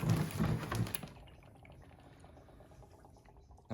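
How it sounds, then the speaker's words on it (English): CO2 bubbling into beer inside a keg gives a burst of gurgling, bubbling liquid noise at first, then settles to a quieter trickle and fizz. "You can see the bubble, you can hear the bubbles are nice and happy going into the beer."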